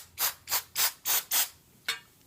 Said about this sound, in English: Spray some more.